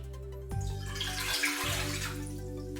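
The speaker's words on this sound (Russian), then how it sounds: "В глубокую чашу наливаю 500 мл теплой воды." Warm water, 500 ml, pours steadily into a deep bowl, a close continuous splashing and trickling that starts abruptly and runs to the end.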